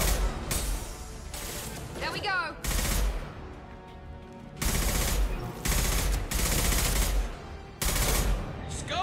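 Rifle gunfire in the video game Mass Effect 2, several bursts of loud rapid shots separated by short pauses, with game effects between volleys.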